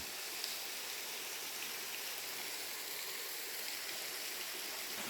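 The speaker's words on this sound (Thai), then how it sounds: "นี่นี่น่าจะเป็นน้ำตกแล้วนะครับ" A constant rush of falling water from Pha Rom Yen waterfall in Ban Rai, Thailand fills the scene, a steady bright hiss with no pauses or voices.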